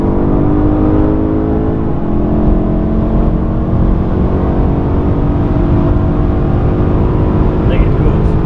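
A BMW X5 M performance SUV on a test drive pulls hard, its engine giving a loud, steady drone with layered whining harmonics that holds for the whole stretch.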